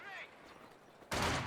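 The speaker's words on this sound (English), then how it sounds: "Machine gun manages to get a burst off though in return" A machine gun in Company of Heroes 2 rips off a loud, dense burst of rapid fire that starts abruptly near the end, after a stretch of faint tonal background.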